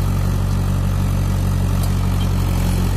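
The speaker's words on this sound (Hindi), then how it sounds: "महिंद्रा 475 ट्रैक्टर चल रहा भाइयों" A Mahindra 475 DI tractor fitted with a 12-disc harrow runs at a steady idle, giving a loud, even, low throbbing drone that holds unchanged throughout, with no voices.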